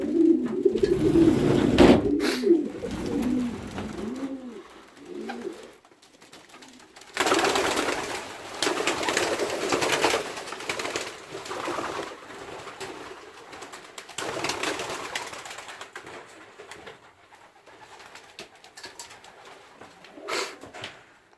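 Racing pigeons released from a loft take off together, a burst of cooing and flapping up close, then a long rushing flutter of wings that rises and fades in waves as the flock flies away.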